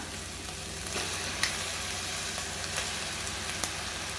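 Chicken with turmeric, ginger and garlic frying in a pan for uppu kari, a continuous close sizzle with faint occasional stirring clicks and no talking.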